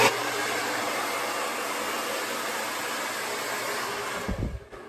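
A Conair Testarossa blow-dryer runs at high heat while styling hair with a roller brush, a steady, loud, close airflow roar that holds evenly for most of the span before a brief disturbance and dip near the end.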